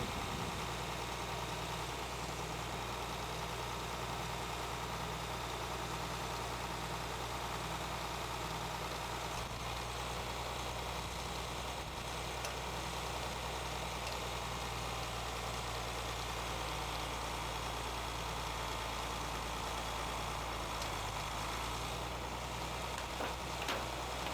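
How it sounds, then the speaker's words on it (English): A 1938 John Deere tractor engine running on an Arkansas farm, a steady low mechanical drone and idle throughout, constant and unbroken with no talk over it. "Old tractor. Of course it would be old now. It'd be about a 1938 John Deere"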